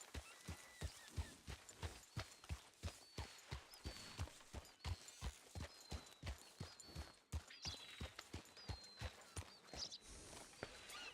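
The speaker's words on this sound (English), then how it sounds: "Artemis is so noisy compared to my other horse." Horse hooves clip-clopping at a steady walking rhythm in a Red Dead roleplay video game, regular close thuds with faint high chirps and ambience in the background.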